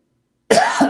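A single close, abrupt human cough, a short harsh burst followed by a quick second hack, after a moment of silence.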